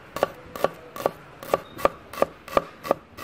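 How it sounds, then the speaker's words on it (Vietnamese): A knife slices shallots on a cutting board, about nine crisp, evenly spaced strikes in a steady rhythm, close and clear with no talk. "đầu tiên mình lấy hết hành tím ra, chẻ đôi như vậy. Sau đó đem đi cắt lát hết."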